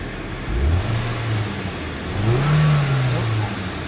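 A 2010 Toyota Corolla S engine with a misfire runs near the microphone, its low hum rising and falling in pitch as it revs briefly twice. No clear talk is heard over it.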